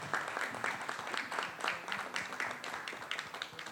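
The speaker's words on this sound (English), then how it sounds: "Can I have round of applause?" An audience at a preschool launch event in Chennai gives a short round of applause, with steady crowd clapping that holds at an even level for a few seconds.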